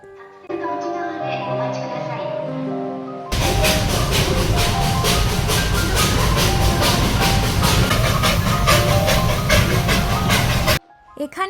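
A coal-powered toy train rumbles and clatters loudly with rhythmic clicking of wheels on rails, after a stretch of background voices and noise before it sets off, in Darjeeling.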